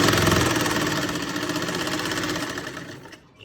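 An electric sewing machine stitches a salwar belt, running in a fast, loud, continuous mechanical whir close by that slows slightly and stops at the end, with no talking.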